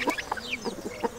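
Adult chickens and ducks cluck beside a wire-fenced cage of hatchling miniature chicks, giving a string of short, close, moderately loud clucks and calls in an irregular rhythm, with no talking.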